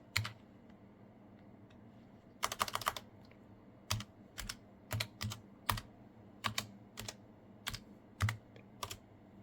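Keystrokes on a computer keyboard while entering a root login command during a PlayStation Classic memory upgrade: a quick burst of clicks followed by a steady run of separate, close taps, quiet and alone.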